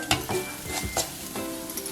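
Ground tomato masala paste hits hot oil in a pan for bhindi masala curry, giving a steady loud sizzle with several sharp bursts of crackle as it is stirred, no voices.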